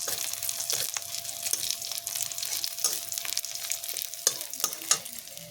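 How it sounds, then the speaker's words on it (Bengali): Sidol, fermented fish, frying briefly in a pan: a continuous close sizzle with scattered sharp crackles and stirring scrapes. "বেশি ভাজবো না, সাধারণ একটু ভেজে নেব।"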